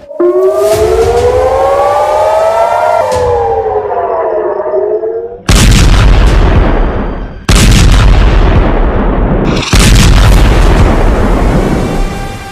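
Missile strikes in the Israel–Hezbollah conflict: a loud wailing air-raid siren rises and falls, then three heavy, very loud blasts hit in succession, each followed by a rumbling roar.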